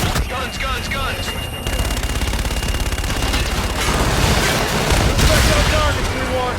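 Aircraft gun run in Call of Duty: Infinite Warfare, a sustained rapid burst of heavy gunfire with booming impacts, dense and loud, with radio voices near the start.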